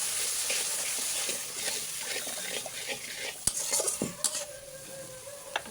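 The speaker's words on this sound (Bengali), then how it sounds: "ভালো করে মশলাটা কষিয়ে নেওয়া হচ্ছে" A spice paste of ginger-garlic paste, turmeric, chili powder, coriander powder and salt is sautéed in a pan. It gives a continuous soft sizzle with occasional sharp utensil knocks and scrapes against the pan.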